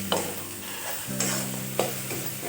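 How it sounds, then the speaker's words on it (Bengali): Tomato masala for chicken keema ghugni is stir-fried in a pan, a steady sizzle broken by three sharp scrapes of the spoon. "টমেটোটা দিয়ে আমি ভালোভাবে মশলাটা কষিয়ে নেব"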